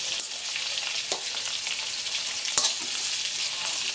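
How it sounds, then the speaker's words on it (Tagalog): Thick pieces of pork frying in a pan, with a continuous close crackling sizzle and a few sharper pops along the way. "Pabayaan natin siyang ma-fry lang dyan."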